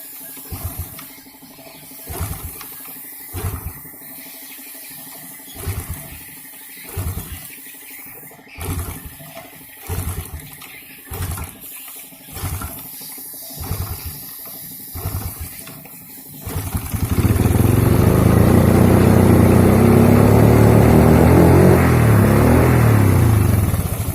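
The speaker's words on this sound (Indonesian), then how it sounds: "Oke, motornya hidup ya Kang Bro." A Honda Jupiter motorcycle with very low compression is kicked over again and again, each stroke a short ratcheting thud, until the engine catches and settles into a loud, steady idle for the final stretch.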